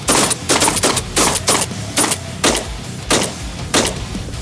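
A 2025 Aksa S4 Extreme Pro shotgun fired in a rapid string of about eight sharp, loud blasts at a steady pace, each shot cut off quickly, with no talking.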